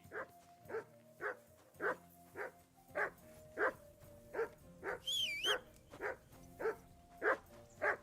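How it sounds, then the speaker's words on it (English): A dog barks in a steady, rhythmic run of about fourteen evenly spaced barks over a low background hum, with a brief high whistling tone partway through. "call off that dog"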